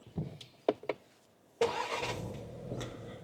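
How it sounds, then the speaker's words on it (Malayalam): A Skoda Kushaq 2026 facelift Monte Carlo engine cranks and catches, then settles into a steady idle, heard up close after a few soft clicks from inside the car. "ഞാനിപ്പോൾ ഈ വാഹനം ഒന്ന് സ്റ്റാർട്ട് ചെയ്തു. Engine is running."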